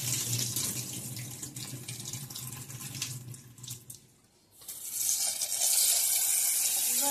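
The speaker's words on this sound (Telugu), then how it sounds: "కడిగేసిన తర్వాత అప్పుడు నీళ్ళు పట్టుకుని ఉంచుకుందాం." Tap water runs steadily into a vessel to soak rice and lentils for pesarattu, a loud close gush that dips briefly midway and then resumes more strongly, with no voices.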